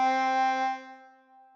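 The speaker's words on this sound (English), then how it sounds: "and blow into 1." One blown note on hole 1 of a harmonica, a clean reedy tone that sounds briefly and trails off within under two seconds, heard alone without talk.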